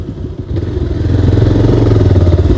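A friend's motorcycle engine runs close by with a steady, throaty low rumble that grows slightly louder and fuller after the first half-second, with no talking over it.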